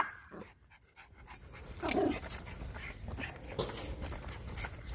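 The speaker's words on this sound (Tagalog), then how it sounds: "Dalawa na sila magtahulan." Two dogs bark at each other in quick, uneven bursts, fairly close, with scuffling and clattering noises around them and no one speaking.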